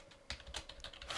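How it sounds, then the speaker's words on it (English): Keystrokes on a computer keyboard while entering ActionScript code, a quick run of close, crisp clicks in uneven bursts, alone and fairly quiet. "let's start typing some ActionScript too"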